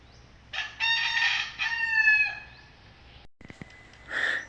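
A rooster crows loudly and close by in one long call, followed by a brief pause and a shorter cluck-like call.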